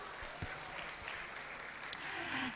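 An audience applauds a woman being honoured at an Atomy business seminar, a steady wash of clapping that fills the whole stretch and swells slightly near the end.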